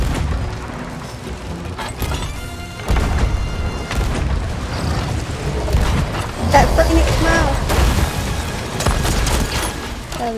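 Heavy booming cannon fire from a video game with explosive barrels, a run of loud, dense blasts and crashes that continues through the clip, with people talking over it.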